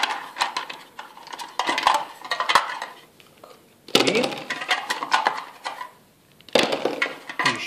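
Six dice rolled during an Arkham Horror board game, a series of clattering, rattling bursts of plastic dice tumbling and knocking on a hard surface, close and loud, with brief pauses between rolls.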